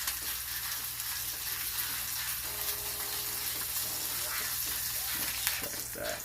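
Bone-in meat sears in a hot pan, a steady, close sizzling hiss that runs unbroken, with faint clinks near the end.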